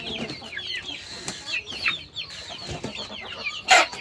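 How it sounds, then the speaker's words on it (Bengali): A crested desi hen on a large Shariatpur farm clucks repeatedly in short, irregular bursts, with other fowl nearby and one louder squawk near the end. "এখানে দেখেন একটি মুরগি আছে"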